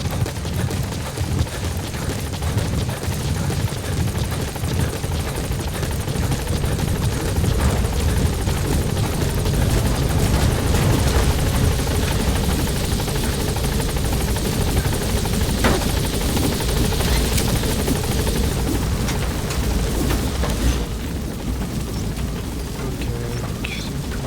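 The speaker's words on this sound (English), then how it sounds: "Support helicopter has arrived." A support helicopter arriving in Metal Gear Solid V: The Phantom Pain, its loud, steady rotor thrum and engine roar filling the whole stretch without pause, with no talking.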